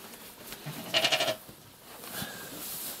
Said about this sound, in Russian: Овца.